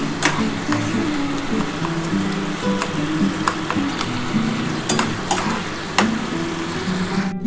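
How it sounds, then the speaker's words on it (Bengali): Mustard, tomato, green chili and nigella sautéing in a little oil in a pan for a small khoira fish curry, a steady close sizzle with scattered sharp crackles and spatters throughout. "আমার কিন্তু সর্ষে, টমেটো, কাঁচা লঙ্কা, কালো জিরে একসাথে কিন্তু মোটামুটি কষানো কমপ্লিট হয়ে গেছে"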